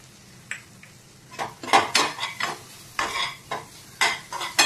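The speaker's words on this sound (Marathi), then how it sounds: "मस्त असं परतून घेऊया" Red chili powder, garam masala and kitchen king masala stirred in a pan for shahi bhendi, with repeated scraping spoon strokes against the pan in an uneven rhythm over a faint sizzle.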